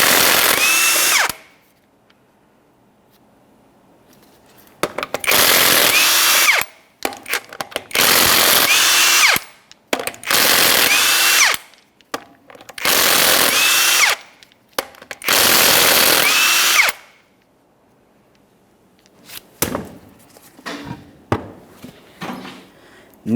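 An impact power tool whirs in six loud, separate bursts, each a couple of seconds long, as 21mm lug nuts come off a 2004-2008 Ford F-150 front wheel, with brief quiet and a little talk afterward.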